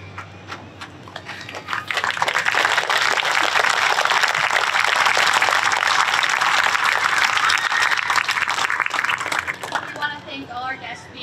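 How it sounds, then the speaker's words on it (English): Audience applause at a 9/11 memorial service at a county fair swells into a loud, sustained round of clapping, with a brief lull before it and a fading tail at the end. "Can we all give them one more round of applause?"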